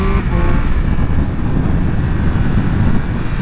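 A 2023 Triumph Speed Triple 1200 RS three-cylinder motorcycle is ridden along a twisty road, giving a steady, loud engine drone mixed with heavy wind rush throughout, with no talking.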